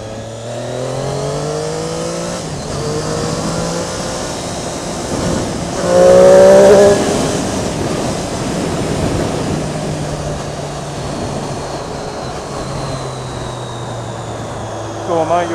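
A Triumph Daytona 675 motorcycle on a test ride, its engine note rising and falling through the gears with a loud surge midway, under wind rush and voices talking over it.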